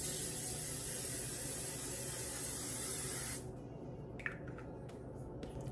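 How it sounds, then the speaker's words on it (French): L'Oréal Infaillible makeup setting spray hisses in one steady, close burst lasting a few seconds, then stops, leaving quiet room tone with a couple of soft handling clicks. "Et pour finir un peu de spray fixateur, celui-là c'est l'infaillible de L'Oréal."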